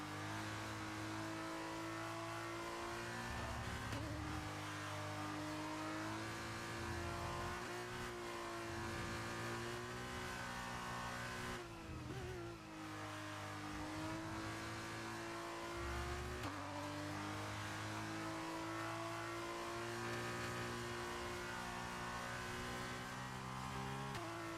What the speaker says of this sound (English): Just trying to throw some heat into the tires.